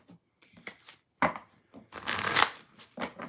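Tarot cards are shuffled in quick, papery riffles and slaps, with short bursts followed by a longer rustling run, close and fairly loud with no voice over them.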